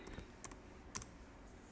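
Several light clicks of typing on a computer keyboard, sparse and irregular, soft against a quiet room hum.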